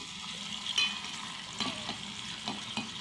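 Ingredients for a biryani fry in hot oil with a continuous bright sizzle and a few soft stirring knocks, close and moderately loud with no talk.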